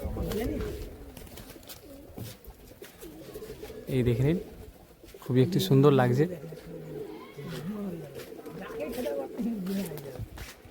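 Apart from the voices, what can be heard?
pigeons cooing, Giribaz pigeons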